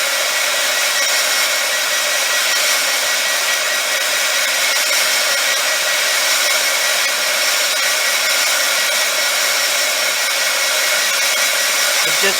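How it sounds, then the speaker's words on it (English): A craft heat tool blows hot air steadily at full strength for the whole stretch, warming paper clay pieces shaped against a salsa jar, a loud, even hiss with no talk. "So I'm just going to use my heat tool to warm them up."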